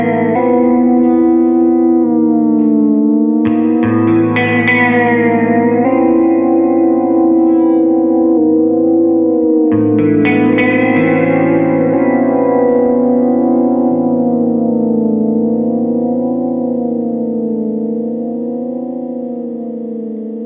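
Sustained guitar chords run through an Electronic Audio Experiments Prismatic Wall pedal, loud, thick and shimmering with heavy modulation and reverb, swelling and morphing between settings before slowly fading, with no voices.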